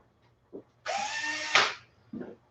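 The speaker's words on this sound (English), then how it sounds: "is a drill with a brush on the end of it" Power drill fitted with a brush, removing seam sealer on a Mazda Miata project car. A single whirring burst of about one second, close and fairly loud, with brief soft sounds just before and after.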